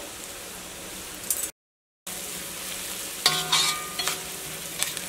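Chili powder being stirred into sizzling masala with green chilies in a pan for Kerala chicken roast, a steady frying crackle with scraping stirs that grow louder toward the end, broken by a brief gap.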